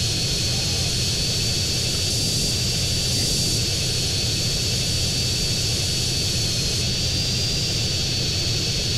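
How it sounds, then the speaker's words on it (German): Aircraft engine in GTA San Andreas, a steady droning roar with a constant high whine, continuous and fairly loud throughout without talk. "Und ich suche mir eigentlich nur das Flugzeug hier vor."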